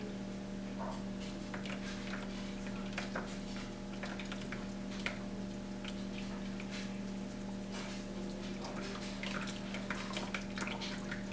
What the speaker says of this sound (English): we're going to let that strain through